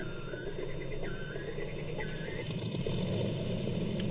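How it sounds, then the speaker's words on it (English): A radial engine on a Cessna 195 in the X-Plane flight simulator cranks and catches, with a low, steady rumble and a wavering whine that grows rougher and louder toward the end. "It's a radial engine"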